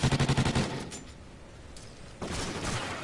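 Rapid automatic gunfire from a Call of Duty match opens with a loud rhythmic burst of shots, then gives way to quieter game ambience and scattered effects, with another noisy swell near the end; no one speaks.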